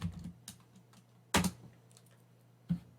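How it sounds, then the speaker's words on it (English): Keystrokes on a computer keyboard entering a git checkout command, a few sharp separate clicks with a louder cluster in the middle and another near the end, close and alone over a faint steady hum. "To make our new branch active, we will type git checkout and the name of the branch."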